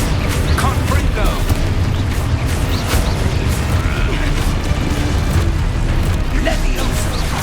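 Confringo fire spell blasts in Hogwarts Legacy bursting amid a busy combat mix, loud booming explosions layered over constant battle noise with spell shouts in between.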